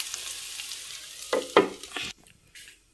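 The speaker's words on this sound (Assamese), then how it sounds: "অকণমান পিঁয়াজ পাঁচফোৰণ আৰু কুন্দুলি এনেকৈ ভাজিছোঁ" Ivy gourd frying dry in a pan with a little onion and five-spice, a short close sizzle with a few quick stirring scrapes before it fades, no talk.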